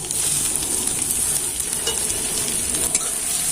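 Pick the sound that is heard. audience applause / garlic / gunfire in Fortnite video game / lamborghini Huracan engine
garlic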